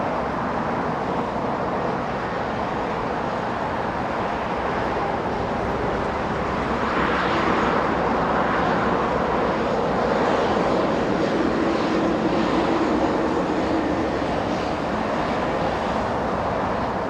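A steady, loud roar of jet engines from an airliner landing at Los Angeles International Airport, heard from outside with a broad rumble that swells slightly midway and holds throughout.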